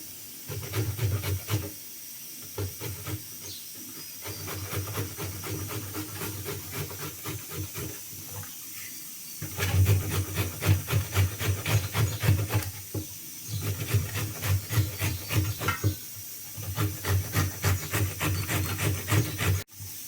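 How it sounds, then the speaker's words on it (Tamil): Rhythmic rasping and scraping strokes repeat in bursts as white radish is grated finely by hand, with short pauses between runs. "வெள்ளை முள்ளங்கி நல்லா சுத்தம் பண்ணிவிட்டு இந்த மாதிரி பொடியாக துருவி வச்சுக்கலாங்க"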